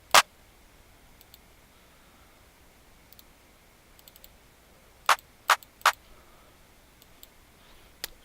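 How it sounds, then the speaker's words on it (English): Two layered clap samples from an FL Studio drum kit sound as sharp, isolated snaps, one at the start and a quick cluster of three later, separated by near silence with no voices. "I used two different claps."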